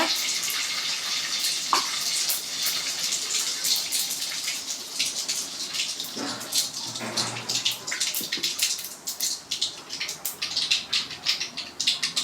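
Mustard seeds popping and spluttering in hot oil while a yam fry is being cooked, a steady crackling sizzle with scattered sharp pops throughout.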